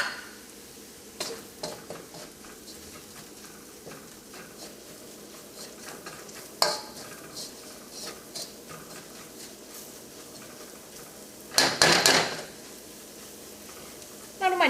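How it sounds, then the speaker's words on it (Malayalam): Ginger garlic paste and coriander powder fry in oil with a steady close sizzle, broken by occasional scrapes and clinks of a spoon stirring the pan, with a louder burst of stirring near the end. "മല്ലിപ്പൊടിയും എണ്ണയിൽ കിടന്ന് നന്നായിട്ട് മുരിഞ്ഞിട്ടുണ്ട്."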